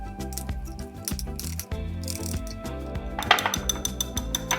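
Corn fritter batter with canned corn is stirred in a bowl, the spoon clinking and scraping against the sides in an irregular rhythm, close and fairly loud over a steady background of music.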